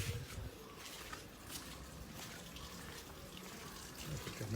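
Running tap water filling an automatic chicken waterer system, a steady rushing splash with faint voices in the background.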